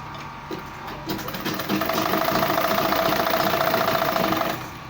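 Sewing machine stitching a welt pocket, a fast steady mechanical whir that speeds up, runs evenly close by for a few seconds, then slows and stops.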